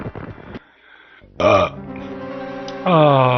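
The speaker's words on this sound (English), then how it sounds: "Excuse me, I have to burp again." Two loud, drawn-out belches from a man playing Super Mario World, the second one rising into a long voiced croak, with a short gap of quiet between them and faint movement noise at the start.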